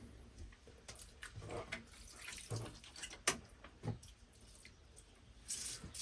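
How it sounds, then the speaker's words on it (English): Water poured onto a potted Fuji cherry pre-bonsai, kojo-no-mai, soaking the soil until it drains out the bottom, with soft intermittent splashes and trickles near and fairly quiet. "So I'll just keep watering it until it comes out the bottom"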